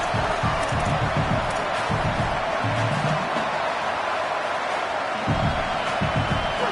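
Home crowd noise from a college football stadium in the CFB 27 video game, a steady broad roar running throughout with bursts of cheering and thumping under it, and commentary voices faintly mixed in.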